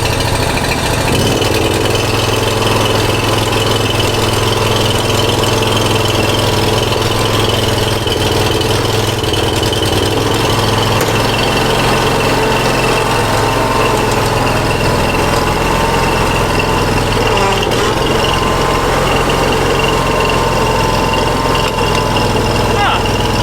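The engine of a Ferris IS3000 zero-turn mower runs steadily and loudly up close, a constant low drone with vibration that stays even throughout.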